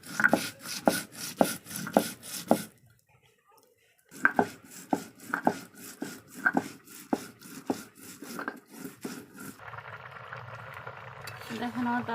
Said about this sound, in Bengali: এখন আমি ভাজা জিরাগুলো বেটে নিচ্ছি।